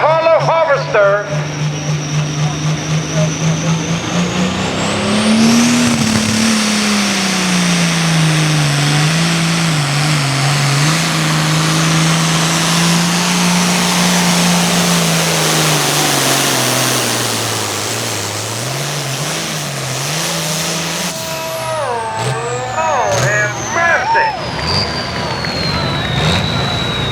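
A 10,000-pound Pro Farm pulling tractor with a 540 cubic inch engine roars loudly at a tractor pull, revving up and holding a long sustained bellow before dropping off, with crowd and announcer voices around it.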